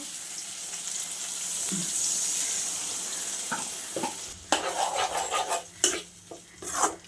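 Water pours steadily into a pot for several seconds, then metal pots and utensils clatter and clink close by.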